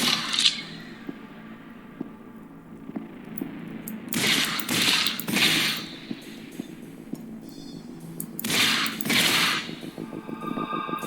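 SMG fire in a video game, rapid bursts of shots in two clusters over a low game soundtrack, with small metallic clinks between, no talk.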